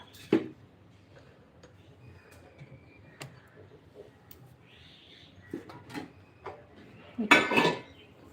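Roasted semolina scooped out of a pan, with sparse metallic clinks and scrapes of a spoon against the pan, ending in a louder burst of scraping and rattling, faint talk in the background.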